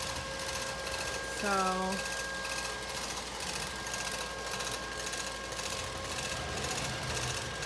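A Neato Botvac robotic vacuum cleaner runs with a steady, busy mechanical whir and a brief rising electronic tone near the start. A person says a word over the noise.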